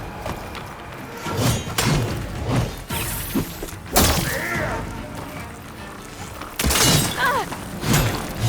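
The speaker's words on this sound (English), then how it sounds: "I've got to break that shield!" An enemy's shield shattering in the video game Horizon Forbidden West comes through as several loud, sharp crashing impacts and thuds, spaced a few seconds apart, with bursts of game effects between them.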